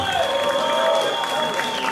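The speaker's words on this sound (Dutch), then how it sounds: "Geef een duidelijk applaus, dames en heren." A kickboxing crowd applauds the winner of a technical knockout, with dense, loud, continuous clapping and a sustained tone from the arena sound system running beneath it.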